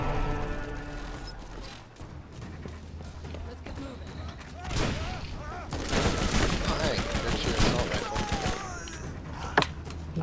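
Gunfire in the Borderlands video game comes as rapid shots and bursts, building into heavier, louder volleys in the second half alongside game noise and a sharp crack near the end.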